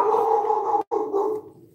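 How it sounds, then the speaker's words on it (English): A dog barks steadily and fairly close for over a second, pauses briefly, then barks again before trailing off. "I have no idea what the dogs are barking at."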